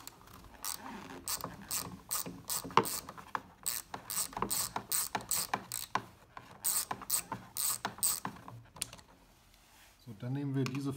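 Ratchet turning screws loose on the tailgate of a BMW E39, heard close up as rapid bursts of clicking with brief pauses, then someone speaking at the end.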